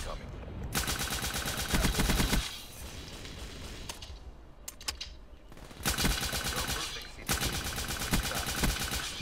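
Bursts of rapid automatic gunfire from a weapon in a first-person shooter game, loud and dense, with two long volleys separated by a quieter stretch of game sounds, then another sustained stream of shots.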